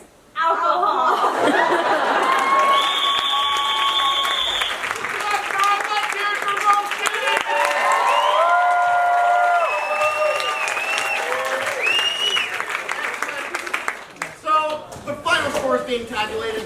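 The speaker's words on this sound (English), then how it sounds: "Give yourselves one more big round of applause." An audience at a comedy improv match bursts into sustained applause and cheering, dense clapping with whoops, laughter and excited voices running for most of the stretch before tapering off near the end.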